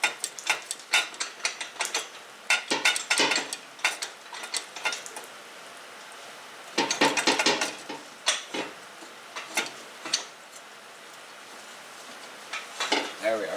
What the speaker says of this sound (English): now I'm going to try to wiggle the turbo my way to get it off that.